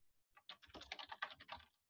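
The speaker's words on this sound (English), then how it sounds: "Oh my God, typing." A quick, faint burst of typing on a computer keyboard, about a second of rapid, closely spaced key clicks in a quiet room.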